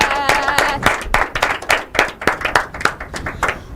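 Audience applause at a school debate competition: a steady burst of many hands clapping, fairly close and continuous, with some voices mixed in.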